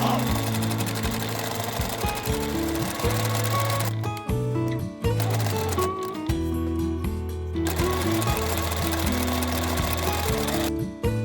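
A sewing machine sews strips of torn-fabric frills for a bag, running in stop-and-start bursts of rapid mechanical stitching, close and fairly loud, with short pauses between runs.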